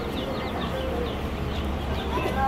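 Chickens cluck at a farm feed store that also keeps turkeys and baby chicks, a busy cluster of short calls heard over a steady indoor hum, with light voices in the background.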